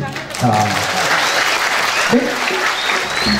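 Sustained audience applause at a Balinese Topeng Bondres comedy performance, a dense, steady wash of clapping filling the whole span, with a voice briefly heard over it.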